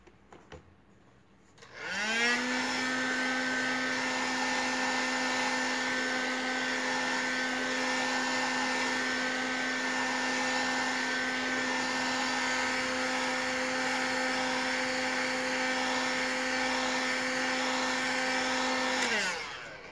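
A handheld dryer blowing on a craft piece starts up abruptly, holds a steady, loud, tonal whine for about seventeen seconds, then shuts off.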